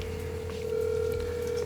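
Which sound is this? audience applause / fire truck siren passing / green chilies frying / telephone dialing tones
telephone dialing tones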